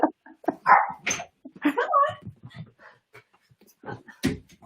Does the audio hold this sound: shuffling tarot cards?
no